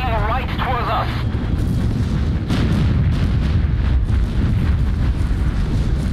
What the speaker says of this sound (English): Artillery, full barrage on that destroyer.